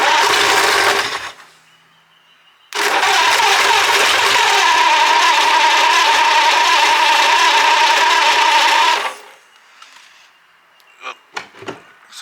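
An abandoned Ford flathead V8 that sat 30+ years cranks in two bursts, a brief grinding churn and then a longer loud steady whirring crank, before it stops, followed by a few faint clicks and knocks.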